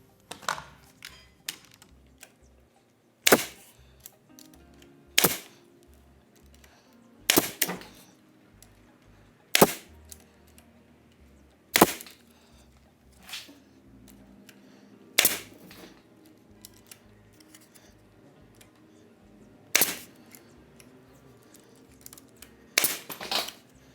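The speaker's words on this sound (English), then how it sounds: "I marked out where all my screws are, so I hopefully don't hit those with my nailer." Sharp, loud bangs from a nail gun fire one at a time at irregular intervals of a few seconds while trim is fixed onto a stagecoach, with quieter handling clicks and taps between shots.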